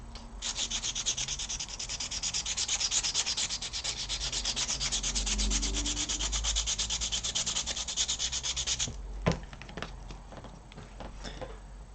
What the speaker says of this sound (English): This 80 grit sandpaper, it's really going to town on this.